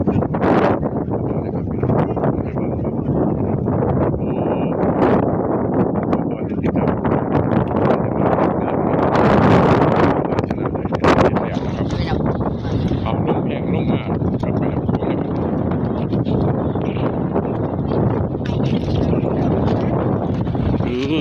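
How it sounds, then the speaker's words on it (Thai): Wind gusts roar steadily and closely across the microphone beside the Mekong River at the Pha Chana Dai cliff, a continuous broadband rush with a stronger surge midway, while a person talks over it. "ลม"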